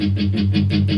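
Palm-muted electric guitar power chords play the verse riff of a song, a steady chugging pulse of about five evenly spaced chord hits, close and fairly loud with no voices.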